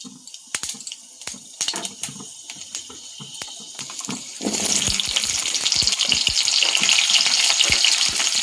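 Panch phoron spices hit hot oil in a kadai, first scattered sharp crackles and taps, then a loud, steady sizzle that swells up and continues strongly to the end.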